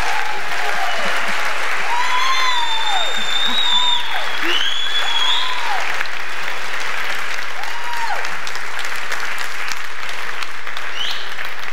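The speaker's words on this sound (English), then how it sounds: "Clap, clap, clap." A large audience applauds steadily throughout the WordCamp Europe 2016 closing session, dense and sustained, with a few whoops and calls rising above the clapping.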